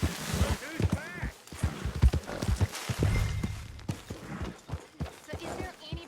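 Horse hooves and a whinny from the Red Dead Redemption 2 video game sound beneath game characters' talking, with a short burst of hoofbeats in the middle.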